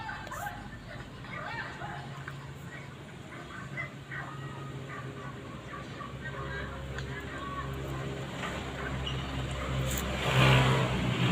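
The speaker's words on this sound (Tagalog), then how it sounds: "Maingay mga sasakyan." Traffic hums steadily in the background as vehicles pass, growing louder toward the end, with faint voices underneath.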